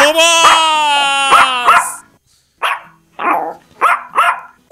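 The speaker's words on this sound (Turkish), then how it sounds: "Çek şu köpeği." A Minecraft dog barks and yips in short sharp bursts, some loud and close, alongside a voice speaking over the first part.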